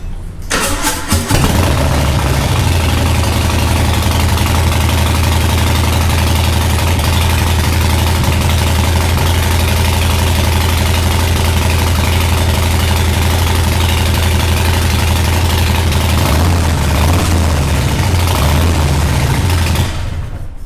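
A Harley-Davidson Breakout with a Screamin Eagle 117 Stage 4 engine cranks and fires, then settles into a loud, close, lumpy V-twin idle with deep low rumble, running steadily for about twenty seconds before shutting off.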